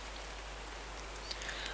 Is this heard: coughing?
no